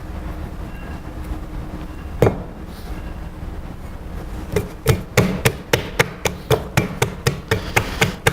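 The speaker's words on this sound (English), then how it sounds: "When you hit the ball of clay like this, it more or less will seal the clay down to the potter's wheel." A ball of clay is slapped repeatedly onto a potter's wheel to seal it down during centering, one early thud and then a fast, even run of sharp, close, loud smacks over a faint background hum.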